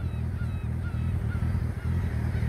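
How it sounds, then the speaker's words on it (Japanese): Seagull calls on the Sea of Japan coast near Sasagawa Nagare, a rapid run of honking, squawking cries up close with steady wind or surf beneath, no talk. "今カモメが鳴いてた。"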